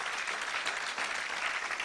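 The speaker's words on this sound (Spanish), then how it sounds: "Dele un aplauso al Señor." A church congregation applauds for under two seconds. The clapping is dense and sustained across a crowd, fairly loud and at mid distance, with no voices standing out.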